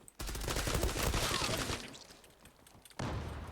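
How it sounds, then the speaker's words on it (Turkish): A long burst of rapid automatic gunfire in the Zula video game that trails off, followed by a short renewed burst at the end. "Şöyle garanti almak için biraz fazladan vuruyorum."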